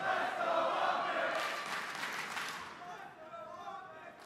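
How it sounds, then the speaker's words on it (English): A crowd at a Call of Duty League Major esports tournament cheers and claps in a brief swell, moderately distant, mixed with talk over the top. "You hear like the crowd's like trying to get into it"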